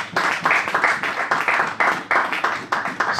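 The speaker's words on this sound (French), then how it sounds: "Acclamons pour la gloire de Jésus." Congregation at a church service clapping in a steady rhythmic beat, around a dozen even pulses over a few seconds, loud and close with no talking over it.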